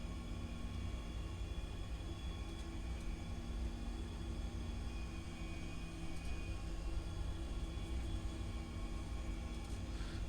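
Steady engine and airflow rumble inside a Boeing 737-800 cockpit during a CAT III low-visibility landing at Newcastle, a constant droning hum with faint tonal whines and no talk.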